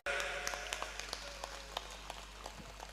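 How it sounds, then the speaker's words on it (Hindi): Scattered, uneven hand claps from a gathering welcome a donor at a devotional event. The claps are sparse and mid-distance, and a voice talks over them. "साहब का स्वागत कर दो एक बार ताली बजाकर"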